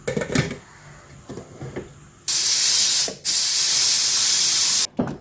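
A pressure cooker cooking lentils lets out a loud, steady rush of hissing steam in two long whistle bursts, briefly broken, after some quieter clinking.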